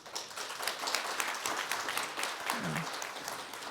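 Applause from a large conference audience, many standing, welcoming attendees to a council session on low birth rates and aging societies; steady moderate clapping throughout, with a brief low voice near the end.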